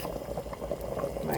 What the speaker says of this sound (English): I'm going in with my carrots